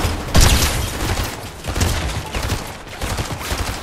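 Rapid bursts of video game gunfire crackle in dense, overlapping volleys, with a loud blast near the start and steady automatic shooting throughout, heard alone without talk.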